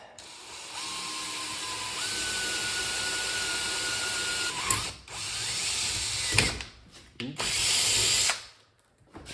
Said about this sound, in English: I will just drill somewhere right there, I think. Like that, 5mm drill bit.